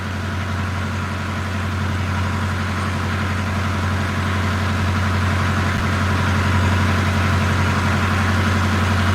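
An old diesel boat engine idles steadily, a loud close low rumble with a regular pulsing throb that continues without break and no talking.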